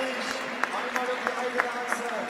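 A crowd at the UCI Trials World Cup in Berlin cheers steadily in the background, with clapping and shouts, while an excited commentator speaks over it.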